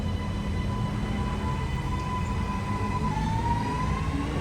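A train running near Wiley Park station in Sydney, a steady loud rumble with a faint high whine rising near the end, no voices.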